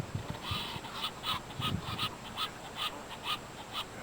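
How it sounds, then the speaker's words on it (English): White domestic ducks at Egg Harbor Lake give a run of honking, nasal calls in quick irregular succession, moderately close and fairly soft over a low outdoor background. "The white domestic duck."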